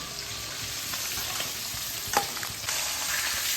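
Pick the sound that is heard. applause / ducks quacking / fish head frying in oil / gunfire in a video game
fish head frying in oil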